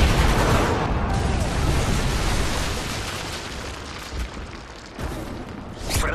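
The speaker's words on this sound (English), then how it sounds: "Friendly Predator missile inbound." Predator missile strike in Call of Duty MW3: a loud, broad explosive roar that opens the clip and slowly decays, followed by a few sharp smaller bangs near the end.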